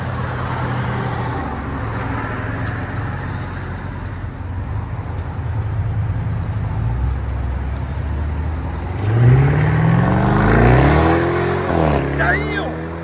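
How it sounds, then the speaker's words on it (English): A BMW 650i with a 4.4L V8 and a muffler delete idles with a deep, throbbing rumble up close, then revs hard with a rising roar and drops back down, with a voice talking over the engine. "BMW 650i. Muffler delete."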